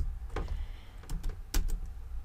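Several sharp keyboard taps, a few isolated keystrokes and then a quick cluster, close and fairly quiet against a low background hum.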